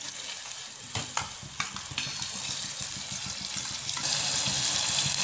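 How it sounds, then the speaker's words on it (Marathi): Masala sautéed in oil until the oil separates, for matar paneer, sizzles steadily up close while a utensil scrapes and taps the pan a few times, and the frying grows louder near the end. "आता ही पण आपल्याला छान तेल सुटेपर्यंत परतून घ्यायचे।"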